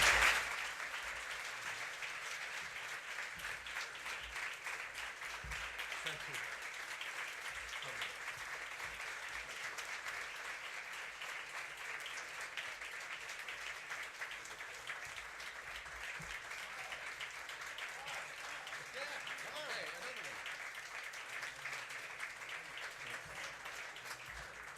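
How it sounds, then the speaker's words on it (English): An audience at a recognition ceremony for Bob Lavoie gives him a long, steady round of applause that holds at an even level for about twenty-five seconds, heard from a distance in a reverberant hall. "everybody please acknowledge and applaud this gentleman"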